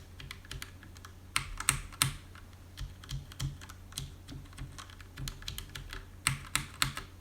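Steady typing on a mechanical keyboard fitted with O-ring dampeners, keys pressed in irregular bursts with soft, muted clacks over a low background hum.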